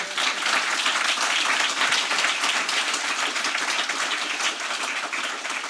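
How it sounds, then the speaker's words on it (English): Applause from a conference audience for the speakers at an inspiring-change event: many hands clapping at once, a full, steady roar that stays loud from start to finish with no talk over it. "Lauren, round of applause"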